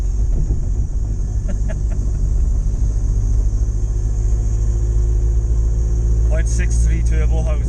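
A Ford Capri with a turbocharged Zetec engine rumbles loudly under boost, heard from inside the car. A deep, steady drone runs throughout, and a brief voice cuts in near the end.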